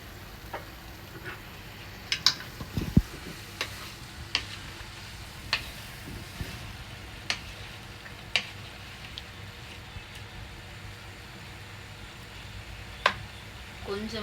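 Long beans and potato sautéing in oil in a pan for a Jaffna-style curry: a soft, steady sizzle with occasional sharp clicks and taps, probably the stirring spoon striking the pan.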